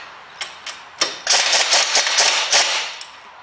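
18mm caliper carrier bolts being loosened on a Vauxhall Astra, a few sharp metallic ticks followed by a quick burst of ratchet clicks, close and fairly loud.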